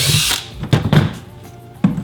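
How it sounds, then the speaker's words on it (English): A power drill with a 17/64 bit bores straight through the centre of a pipe for a fish-finder transducer mount, heard as several short whirring bursts with brief pauses between, close and fairly loud. "we're just gonna start in the center of the pipe and drill straight through it"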